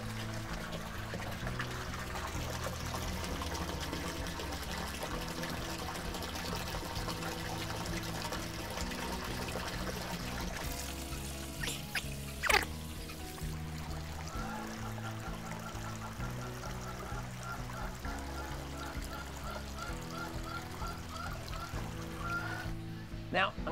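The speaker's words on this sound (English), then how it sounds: "Give these guys a while to fill up since there's a lot of water these things hold" Water pours steadily into large goldfish breeding tanks being filled, a continuous trickling stream beneath a constant low hum, with a brief clatter near the middle.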